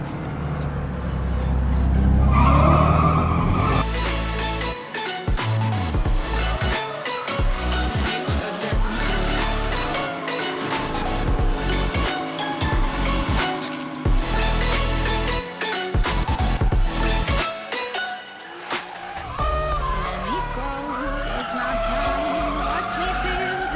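A Mercedes drift car on slippery tires screeches and skids through repeated slides, the engine revving hard and falling away, close and loud, while a voice talks at times over it.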